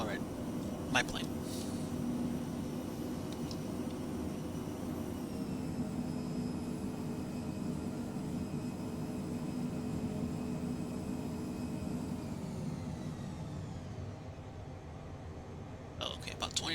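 A Phenom business jet rolls out after landing in a flight simulator, a steady moderate engine and airframe drone with a faint whine that eases off and drops toward the end.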